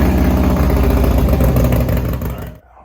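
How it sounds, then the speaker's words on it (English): A 2017 Harley-Davidson Road Glide V-twin engine idling with a loud, lumpy, uneven close rumble, then cutting off abruptly near the end and leaving near silence. "go ahead and start it up, warm up the motor, and cycle the oil through the motor for a little bit"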